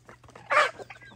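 On a rural farm smallholding, a rooster lets out one loud, close cluck midway, with softer scattered clucks from chickens around it.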